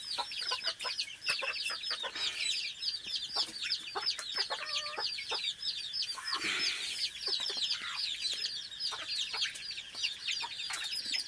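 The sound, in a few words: chicks and chickens clucking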